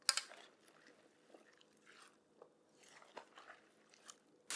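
Seasoned vegetables mixed by hand in a bowl, with quiet, irregular squishing and crunching close by.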